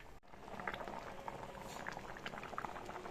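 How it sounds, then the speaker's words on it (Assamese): A pot of sour Assamese fish curry made with hog plum bubbles at a steady boil, a continuous soft gurgling and popping close by with no voices. "দেখিছেনে কেনেকৈ ফককৈ উতলি আছে"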